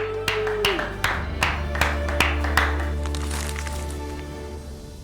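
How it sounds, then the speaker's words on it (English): Audience applause, a burst of sharp hand claps that fades over a few seconds while a low steady hum continues underneath. "Let's give Jonathan a big round of applause."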